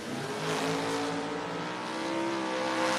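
A Chevrolet S10 drag car, number 539, launches hard off the start line at a no-box drag racing event, its engine roaring loud and sustained with a rising, steady rasp close by.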